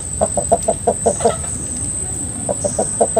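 Hens cluck close by in a series of rapid, evenly spaced clucks, pause briefly, then resume in another quick run, with a steady high hum and soft background noise.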